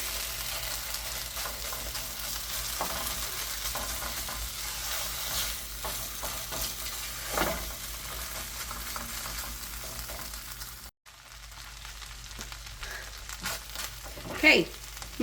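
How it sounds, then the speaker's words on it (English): Nine ounces of chorizo frying in an oiled pan, a soft continuous sizzle with occasional stirring clatter, moderately quiet and close, briefly interrupted by a short dropout. "So I'm gonna add my chorizo, 9 ounces of chorizo,"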